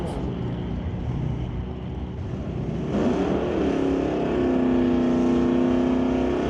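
A Datsun race car accelerating hard down a drag strip in a sportsman bracket race, a loud, steady engine roar that climbs in pitch as it pulls away, with a track announcer talking over it.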